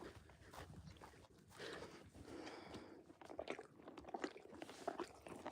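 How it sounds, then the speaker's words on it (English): Someone on a farm chews food close to the microphone, with quiet, irregular crunching and munching bites that grow busier toward the end. "Do you think everybody needs to hear you chew?"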